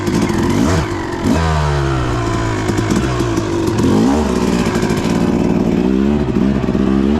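Two-stroke dirt bike fitted with a Lectron Pro carburetor, running a little rich, loudly revving and pulling away up close with rising and falling engine pitch and a raspy, crackling exhaust on a sandy riding area, no speech.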